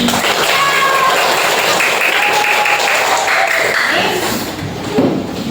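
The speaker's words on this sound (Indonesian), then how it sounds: "Tepuk tangan." Children in a classroom break into a dense round of hand clapping that holds steady and then thins out toward the end, with voices calling over it.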